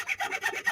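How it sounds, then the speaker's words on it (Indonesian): A hacksaw cuts a block of bay leaf wood for a handmade fishing lure, giving quick rasping strokes in an even back-and-forth rhythm, close and clear with no voices. "pemotongan saya gunakan gergaji besi untuk menghasilkan kepadatan"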